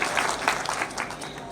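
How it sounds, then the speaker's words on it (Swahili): Crowd applause at a community gathering honouring clergy and neighbours, dense steady clapping from many hands, fairly close and loud throughout. "Makofi ya clergy na majirani wetu."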